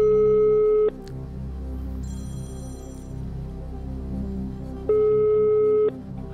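A telephone ringback tone sounds while a call is being placed, two loud, steady beeps about a second long, separated by a pause, over a low murmur of background hum.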